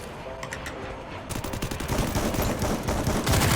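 Rapid bursts of gunfire ring out in a shooter video game, a dense crackle of shots at moderate loudness that thickens and grows busier partway through, with faint voices underneath.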